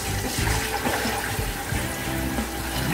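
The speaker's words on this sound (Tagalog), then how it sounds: "Lagyan natin ng tubig." Water poured into a cooking pan of pancit bato, a steady gushing splash with some bubbling and clatter, loud and close without speech.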